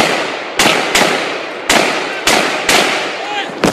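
Gunshots fired outdoors, six sharp loud reports spaced irregularly over a few seconds, each followed by a short decaying echo.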